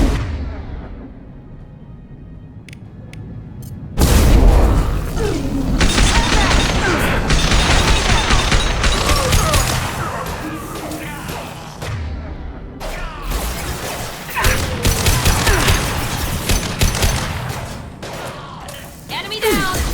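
Gunfire in a Mass Effect 2 battle on Omega: a near-continuous fusillade of shots and crashing impacts that opens abruptly after a few quiet seconds, with voices talking over the fighting.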